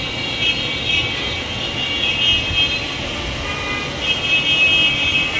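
An S1 GPS drone flies outdoors and climbs higher, its motors giving a steady, fairly loud whine that swells and eases over a rumbling background, with no talk.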